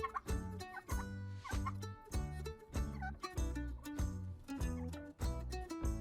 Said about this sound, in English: I see 3 turkeys.